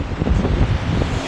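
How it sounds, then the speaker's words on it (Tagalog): Strong gusting wind buffets the microphone beside a road during a junior men's individual time trial at a national road cycling championship, a loud, close, rumbling roar lasting about a second. "Ang lakas ng hangin."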